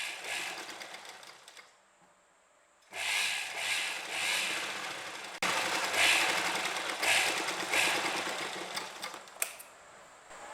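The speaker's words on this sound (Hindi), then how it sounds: "अब हम इसको इस तरफ टर्न करके पीछे की तरफ ले लेंगे और यहाँ गोलाई में एक सिलाई लगा लेंगे।" Sewing machine stitching a curved seam at a kurti neckline, two close bursts of rapid mechanical whirring and clatter split by a short quiet pause, with no speech.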